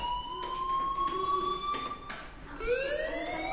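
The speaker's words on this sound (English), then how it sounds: "Hey, do you hear that fire alarm?" An alarm rings in the video game Life is Strange, a steady electronic tone with rising sweeps and a second, higher wail joining near the end, loud and continuous with no talking.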